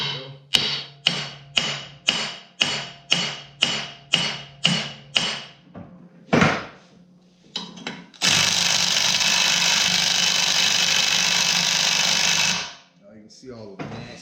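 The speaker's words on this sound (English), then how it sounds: "Got a bigger hammer" A hammer strikes a snowmobile clutch during the teardown of a Polaris RMK 600, about ten sharp metallic blows in a steady rhythm, close and loud, followed by a long continuous whirring burst.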